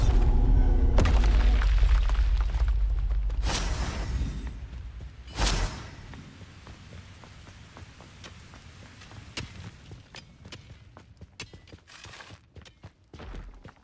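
Bombarda spell blasts in Hogwarts Legacy: a heavy rumbling roar opens, then two sharp booming explosions follow, with scattered crackling debris and lighter impacts trailing off as the noise settles.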